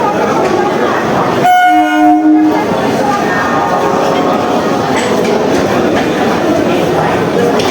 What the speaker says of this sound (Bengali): চলো, ট্রেনে অ্যানাউন্সমেন্ট হয়ে গেছে, ট্রেন এখন ঢুকে যাবে